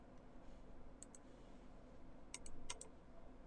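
Faint, quiet clicks from a computer mouse, a single click followed by a quick cluster of two or three, over a low background hum.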